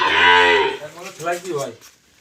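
Cattle lowing at a livestock sale, a long loud moo followed by a shorter second call, close and clear with no talk.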